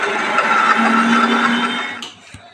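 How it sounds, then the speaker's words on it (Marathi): A kitchen mixer grinder blends karwand chutney with a loud steady whirring drone that cuts off near the end, followed by a couple of light clicks. "बघा आता चटणी मिक्सरला"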